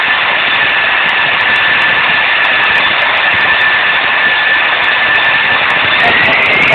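Airbus A321-200 jet engines roaring at steady full power during takeoff from Los Angeles runway 25R in Infinite Flight, a loud, constant broadband rush with a faint high whine throughout.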